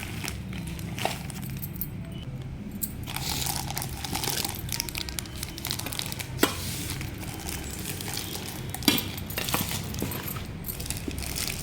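Steel bowls with copper bottoms, a set of five bought online, being unpacked: continuous crinkling of packaging with light metallic clinks and rattles, close by and steady, with no talking.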